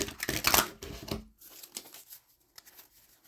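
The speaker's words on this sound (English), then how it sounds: "I'll just quickly shuffle these." A quick burst of riffling card shuffles, crisp papery flutter for about a second, then softer taps and shuffling close to the microphone.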